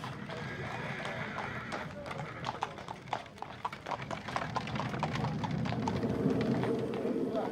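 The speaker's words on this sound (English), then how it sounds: "They fill the town of Appleby with the clatter of wagons and traps and the beating of hooves" Horses' hooves clatter on the road alongside wagons and traps at the Appleby gypsy horse fair, a busy rhythmic clip-clop of several animals moving steadily, loud and close with street bustle behind.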